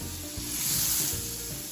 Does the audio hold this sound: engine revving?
no